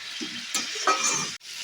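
Mustard-poppy paste with green chillies is stirred and fried in a pan, giving a steady close sizzle with scraping stir strokes and a brief pause near the end.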